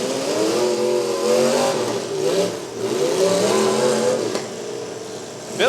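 A worn, overheating demolition derby car engine revs hard and sustained at a county fair derby, the pitch rising and falling as the throttle is held open, loud and close with no talk.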